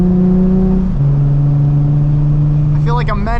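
A 2007 Nissan 350Z HR engine drones loudly and steadily nearby, dropping briefly in pitch before holding a strong hum, with a short burst of sound near the end.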